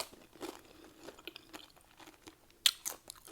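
Close, crisp crunching and chewing of Doritos nacho chips topped with melted cheese, a few irregular bites with one sharper loud crunch near the end, no talking.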